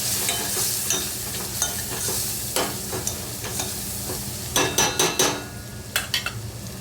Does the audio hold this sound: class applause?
no